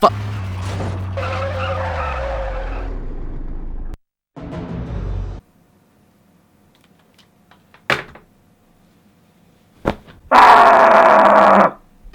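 Cars in the video game Enter the Matrix rev and skid with long loud tire squeals, cut by sudden silences and sharp thuds, ending in a loud screeching slide.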